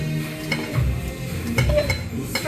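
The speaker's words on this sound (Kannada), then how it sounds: "ಎಣ್ಣೆ ಹಾಕ್ಕೊಂತಿದ್ದೀವಿ. ಆಮೇಲೆ ಸ್ಪೈಸಸ್ ಹಾಕ್ಕೊಂತಿದ್ದೀವಿ" Whole spices such as cinnamon and cloves hitting hot oil in a pan for mutton sambar, giving a steady close sizzle with stirring scrapes and light clinks of a utensil against the pot.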